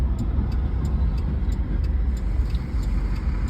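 A car passes on a road and turns, its steady engine and tyre noise close and continuous throughout with no talking.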